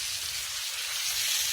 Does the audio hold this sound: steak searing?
yes